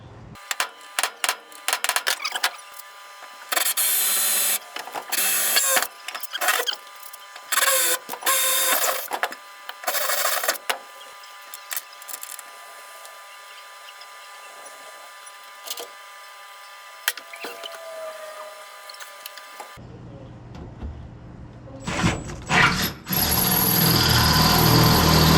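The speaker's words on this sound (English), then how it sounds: "we'd be able to drill this one out" Power drill boring out a rusted body mount bolt on a 1957 vehicle project, a close, loud whine repeating in short stop-start bursts, then briefly steadier running near the end.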